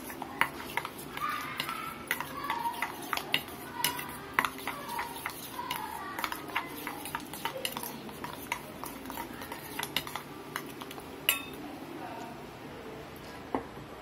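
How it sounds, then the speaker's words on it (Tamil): Egg omelette mixture being stirred in a bowl, with quick irregular taps and scrapes of a spoon against the dish, fairly faint and close, easing off toward the end. "இந்த மாதிரி கிளறி விட்டுடலாம்."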